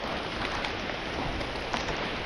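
Steady heavy rain pours down during Typhoon Nando in the Philippines, a dense, even hiss of drops hitting surfaces, close and constant throughout with no voices.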